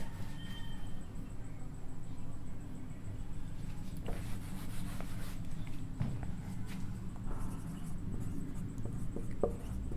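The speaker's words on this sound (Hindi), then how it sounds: "तो आइए उसे हम लोग लिखते हैं।" Chalk or marker writing on a board in a classroom, soft scratchy strokes and light taps under a steady low hum, with no talking.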